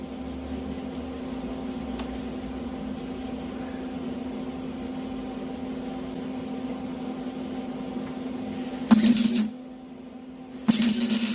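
On a garden tractor being modified for off-road fun, a welder strikes two short crackling arc bursts near the end, set against a steady electrical hum.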